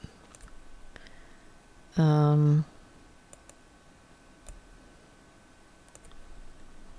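Sparse, faint computer mouse clicks tick at intervals during vinyl decorating work on a computer, with one brief louder tonal sound partway through.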